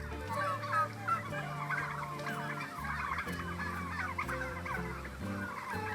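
A crowd of turkeys in a barn gobbles and calls continuously, with overlapping bursts of gobbling over a low, steady background hum.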